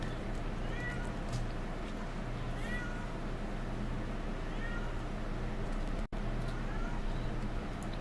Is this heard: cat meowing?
yes